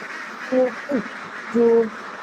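Three short duck quacks come close together, the last one drawn out, over a steady background hum, from egg-laying ducks.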